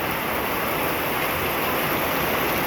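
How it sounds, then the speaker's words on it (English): Heavy rainfall pours down in a dense, continuous hiss, loud and close with no breaks or voices. "We're experiencing a heavy rainfall here."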